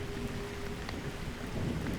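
Rain in the jungle at night, a faint continuous patter with a soft low rumble that could be distant thunder, steady throughout and without voices.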